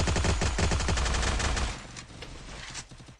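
Rapid gunfire in a video game roars close and loud, a dense stream of shots for over a second before thinning into scattered cracks and echoes.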